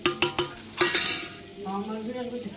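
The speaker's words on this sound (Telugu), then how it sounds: "చికెన్లోకి అయితే కారము సాంబారు సాల్ట్ అయితే ఇంకేసుకొని మొత్తం కలిపేసుకున్నాం" A spoon scrapes and clacks against a pan while spiced chicken curry with potato and tomato is stirred, several sharp close knocks followed by softer scraping and a light sizzle.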